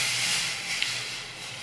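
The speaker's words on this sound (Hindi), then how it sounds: "देखिए अब इसमें डालेंगे पानी।" Water poured into a pan of frying semolina gives a steady, loud broadband hiss with no pauses, heard alone without talk.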